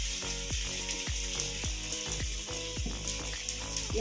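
Mustard seeds, fenugreek, cumin, urad and chana dal, dried red chillies and curry leaves fry in hot oil for a tempering, giving a steady close sizzle with a run of sharp pops and crackles spread through it.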